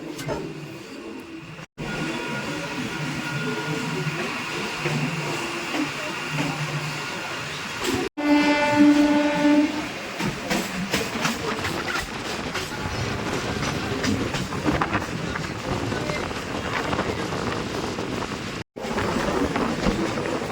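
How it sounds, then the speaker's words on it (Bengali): Kolkata circular railway trains pass close by near Chitpur, with Sealdah division services overhead, giving a loud continuous rumble with rhythmic clickety-clack and a brief squealing tone partway through. "উপর থেকে যাচ্ছে শিয়ালদা ডিভিশনের ট্রেন আর নিচের থেকে যাচ্ছে কলকাতার মানে চিতপুরের ট্রেন"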